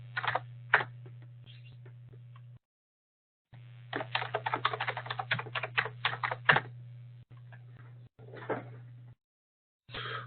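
Keys clatter on a computer keyboard as an admin user ID and password are typed, in quick irregular bursts with short pauses and gaps of silence over a low steady hum, close and fairly quiet.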